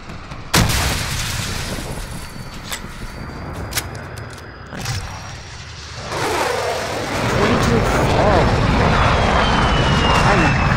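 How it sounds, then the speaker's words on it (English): A VTOL aircraft killstreak in Call of Duty Modern Warfare roars loudly over sharp gunfire and explosive bursts, the jet engine swelling into a sustained, sweeping whine in the second half. "Final kill was my VTOL too."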